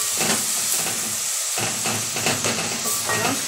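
Kale cooking quickly in an uncovered pan, giving a steady close hiss and sizzle with soft steam noise, alone and continuous throughout.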